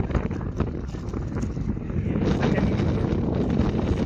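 Steady, loud wind buffeting the microphone with a low rumble, constant throughout and swelling slightly toward the end.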